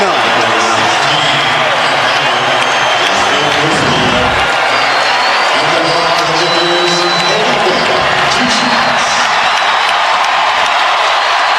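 A basketball arena crowd on its feet roaring and cheering during an NBA game as a player nears his 80th and 81st points, a loud, continuous wall of cheering and applause with scattered shouts and no break.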